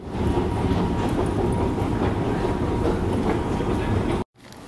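A London Underground metro train runs steadily and loudly up close, its rumble constant and unbroken until a brief dropout near the end.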